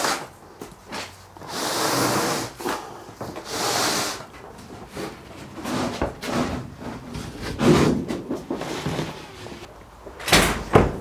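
A house door whose hold-open hook is broken is handled while sheet goods are carried inside, giving a busy run of knocks, bumps, scrapes and rustles close by, with a few sharper thuds and no speech.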